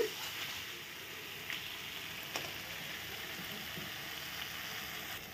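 Masala sizzles softly in hot oil for a bhola fish curry, a faint steady crackle with a few light pops.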